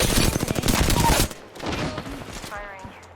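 Rapid gunfire from the Apex Legends video game bursts loudly for about a second, then drops to quieter scattered shots and game sounds with brief talk.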